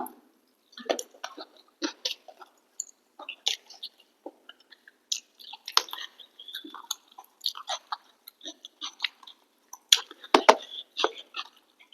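Close-up wet chewing and crunching of a meal of rice with green chili, irregular bites and smacks that come and go over quiet pauses, no talking.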